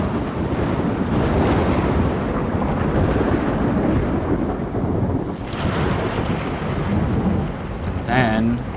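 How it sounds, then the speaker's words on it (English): Loud thunder sound effect played during a tabletop game session, a long heavy rumble with rolling crashes over rain-like hiss, filling nearly nine seconds at close range, with faint voices briefly near the end. "Then I'm going to play some loud thunder for everybody."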